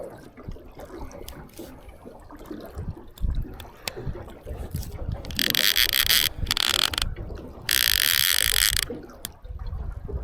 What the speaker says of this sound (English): Let me flip my rig on so you can hear him taking drag.